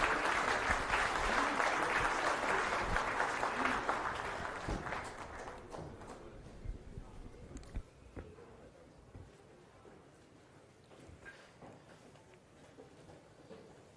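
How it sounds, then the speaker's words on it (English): A crowd applauds loudly at a government presentation on the Musi River in Telangana, a dense wash of clapping that gradually fades out over several seconds, leaving a quiet room with scattered noises. "Big round of applause please."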